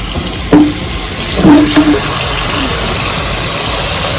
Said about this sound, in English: now we're going to put some water into the pot so they can boil